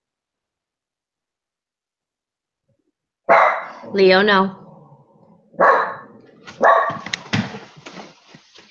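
After a few seconds of silence, a dog barks and whimpers in short bursts close by, while a person speaks between the sounds.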